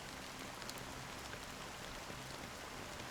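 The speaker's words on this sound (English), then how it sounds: "Also, apparently, it's a black rain." Black rain falls in Honkai: Star Rail as a steady, even wash of soft patter that stays constant throughout, with no voices.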